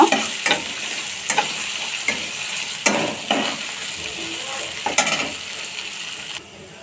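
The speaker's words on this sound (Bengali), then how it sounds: "মশলা, আদা, রসুন, জিরা আমি বেটে নিয়েছি, আমি এখন দিয়ে দেব। এখন আমি ভেজে নেব।" Freshly ground ginger, garlic and cumin paste frying in a pan for prawn pulao, a steady sizzle broken by repeated scraping stirs at a regular pace, close and alone before the sizzle drops off.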